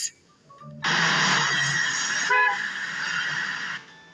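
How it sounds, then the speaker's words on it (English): Bus horn honking in a long sustained blast after a brief short toot, loud and near, sounding alone with no voices. "Bus."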